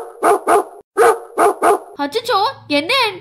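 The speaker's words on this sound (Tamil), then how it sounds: "பக்கத்துல எங்கயோ நாய் குலைக்கிற சத்தம் கேக்குது" Repeated sharp barks from a pet dog at a home gate, five loud close barks in a quick rhythm, then whimpering yips as people start talking over it.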